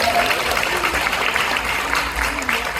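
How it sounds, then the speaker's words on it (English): An audience at a television reunion show applauds together, a dense, sustained burst of clapping that stays loud throughout, with a few voices mixed in. "I think that deserves a round of applause"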